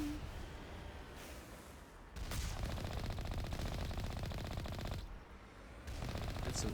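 Turret gunfire in Mass Effect comes as dense, continuous bursts of rapid automatic shots, loud and close, with two short pauses between the long volleys.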